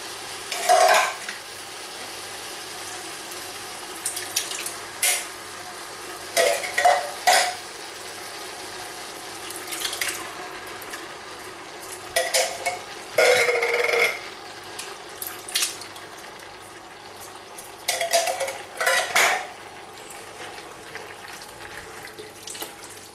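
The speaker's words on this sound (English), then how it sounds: "straight away we're going to add the chopped tomatoes straight in" Canned chopped tomatoes tipped into a beef mince sauce and stirred, giving several separate bursts of wet clattering and spoon scraping against the pan, spaced apart with quiet gaps between them.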